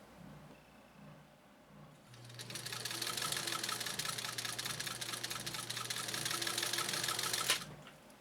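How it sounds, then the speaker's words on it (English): A sewing machine driven by a 1 amp motor stitches through veg tan leather, starting after about two seconds with a steady, fast mechanical clatter and a low motor hum that runs evenly and loud, then stops abruptly near the end. "even with a 1 amp motor, this machine can be harnessed back"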